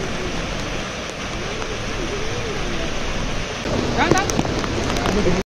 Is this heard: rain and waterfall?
yes